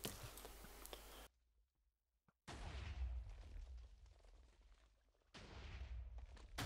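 Blasts of TNT cannon fire in a Minecraft PvP match on the Overcast Network, a House of Cores final, come as loud booming bursts, then a short quiet gap and more sustained rumbling explosions.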